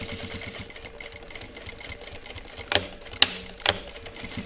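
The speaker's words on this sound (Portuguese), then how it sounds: "Aí eu venho e dou retrocesso aqui, costuro na beiradinha" A home sewing machine backstitching, then stitching along the edge of a fabric crossbody bag with a zippered pocket. A soft, steady mechanical whir runs throughout, broken by a few sharp clicks and knocks near the end.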